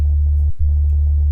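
A Serum synth patch of two ring-modulated sine oscillators sounds a sub-octave D0 bass, a loud steady low drone with a brief dropout near the middle before it resumes, with nothing else heard.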